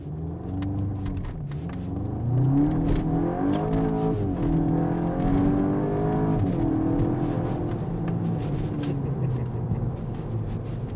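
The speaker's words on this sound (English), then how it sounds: "Let's see how this car launches now." A VW Golf GTI Clubsport Mk8 launching and accelerating hard, the engine note climbing steadily through the gears with a brief dip at each shift, heard from inside the cabin over road rumble.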